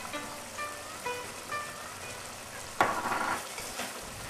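Shepherd's pie filling with mustard, salt and pepper being mixed in a pan, a soft steady sizzle with a louder scraping stir near the end, close and fairly quiet, no voices.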